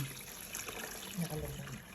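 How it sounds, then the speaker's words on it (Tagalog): Water is poured over eggs in a container while preparing salted eggs, giving a steady faint trickle and splash, with low speech-like sounds underneath. "So ibubuhos na po namin dito yung tubig."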